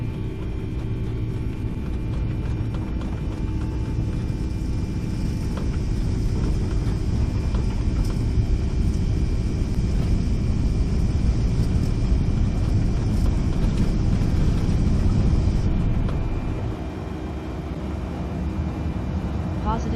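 Airliner engines spooling to takeoff thrust in the X-Plane 12 flight simulator on a Gatwick departure, a loud steady roar with broadband rumble and high whine that holds evenly before easing slightly near the end.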